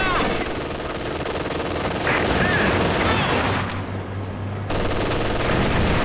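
Rapid machine gun fire in Company of Heroes 2 on a 4v4 Steppes map, dense overlapping bursts and fusillades rattling continuously with brief drops, loud and close, with a voice talking over parts of it.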